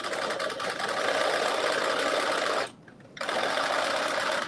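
A sewing machine runs a steady regular stitch down a skirt zipper for McCall's 8370, a continuous close mechanical whir that stops briefly near the three-second mark before resuming.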